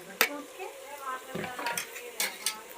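A spoon stirring vegetables and chili powder in a cooking pot, with sharp metallic clinks against the rim and soft scraping, faint sizzling underneath, a few irregular strokes.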